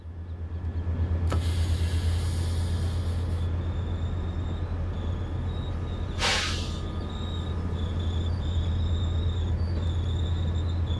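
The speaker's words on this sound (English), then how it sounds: "Nice squealy brakes." Train brakes squeal high and metallic as a train pulls into a station in the Train Sim World 5 game, first in a sustained screech, then in a shorter burst, over a constant low rumble.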